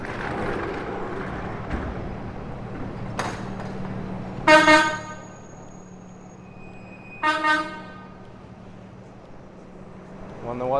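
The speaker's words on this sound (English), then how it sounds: "Wonder what's up with this truck honking their horn" A truck on a street in Forest Hills, Queens, New York City, sounds its horn in two distinct honks over the steady murmur of city traffic.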